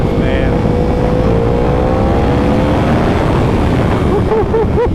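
A custom 2015 Yamaha R1M sport motorcycle is ridden, its engine a loud, close, continuous roar with wind rush and rising rev sweeps toward the end.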